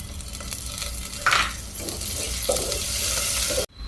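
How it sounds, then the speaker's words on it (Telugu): Curry leaves hitting hot oil with frying onion and green chilli, giving a steady close sizzle with a few sharper spitting bursts and stirring scrapes, no talk. "ఇప్పుడు ఉల్లిపాయ పచ్చిమిరకాయ వేగింది కొంచెం కరివేపాకు వేసుకుందాం"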